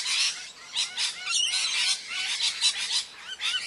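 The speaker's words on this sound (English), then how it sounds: "Parrot." A parrot from a children's jungle animal sound lesson squawks and chatters in a rapid, harsh, high-pitched burst of repeated calls, close and fairly loud.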